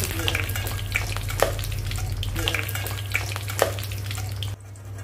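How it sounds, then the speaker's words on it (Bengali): Egg devils coated with minced meat fry in hot oil in a pan, giving a steady close sizzle punctuated by a few sharp stirring or turning clicks before cutting out near the end. "দেখুন 2 করে ভাজবো, আর এর থেকে শুকিয়ে যাবে।"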